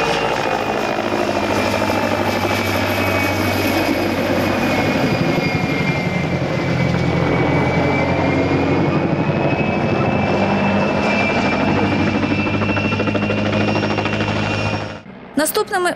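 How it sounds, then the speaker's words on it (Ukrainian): A Mi-2 military helicopter flies at an air show, its loud continuous rotor and turbine drone steady and close for the whole stretch before cutting off abruptly near the end. "Потім своєю майстерністю викликав захват пілот-віртуоз військового вертольоту Мі-2."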